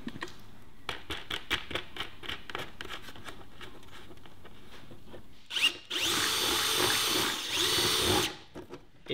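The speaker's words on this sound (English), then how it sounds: "it's because my drill's not quite the right size. So, I just have to enlarge the hole just a touch." A power drill bores and enlarges a hole while building a pollen feeder for bees, with rapid ratcheting taps and then a loud sustained whirring burst of the motor.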